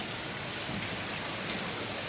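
Steady, unbroken rainfall, a rain that has kept on since the day before, hisses evenly across the whole span as a dense wash of drops with no pauses and no voices.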